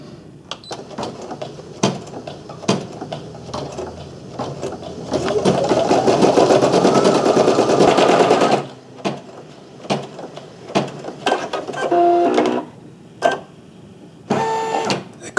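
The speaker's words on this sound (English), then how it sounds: "As the machine is going, make sure that the thread is coming off nicely." Brother SE1900 embroidery machine stitching, a rapid steady mechanical whir for several seconds, then stopping, with intermittent clicks and short beeping tones after it stops.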